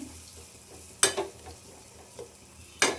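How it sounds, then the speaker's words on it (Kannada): Garam masala and ground spice paste for a Karnataka-style egg curry frying on a low flame, with a faint steady sizzle and two sharp metallic spoon scrapes against the pan, close by and without speech. "ಇವಾಗ ಗರಂ ಮಸಾಲ ಹಾಕ್ತಾಯಿದ್ದೀನಿ. ಇದನ್ನು ಚೆನ್ನಾಗಿ ಫ್ರೈ ಮಾಡಿಟ್ಬೇಕು ನೋಡಿ."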